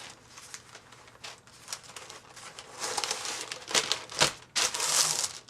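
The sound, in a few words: parchment paper being folded and crinkled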